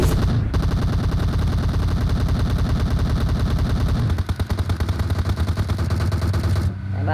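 Dense rapid-fire gunfire from the mobile game PUBG Mobile, a loud continuous stream of shots for several seconds, with a brief change in the firing pattern midway before it stops.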